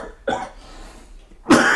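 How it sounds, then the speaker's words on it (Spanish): Two harsh coughs from one person, close and clear, the first short and the second louder and longer, separated by a quiet pause. "Deberías cuidar esa tos"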